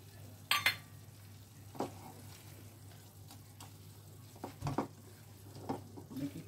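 Chicken jalfrezi is stirred in a pan, a quiet sizzle broken by a few soft scraping strokes of the spoon at irregular intervals.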